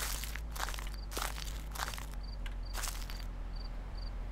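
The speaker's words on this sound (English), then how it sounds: "Do I hear footsteps?" Footsteps in the video game Slender, a run of crunchy steps on rough ground, irregular and fairly close, over a steady low hum with faint insect-like chirps.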